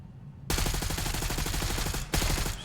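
Automatic gunfire rattles in Black Ops 6 Zombies, a loud rapid burst of shots lasting over a second and a half, a brief pause, then another burst.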